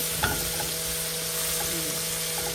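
Halved headless prawns fry with turmeric powder alongside sweet pumpkin, making a continuous close sizzle with soft stirring scrapes and no voices.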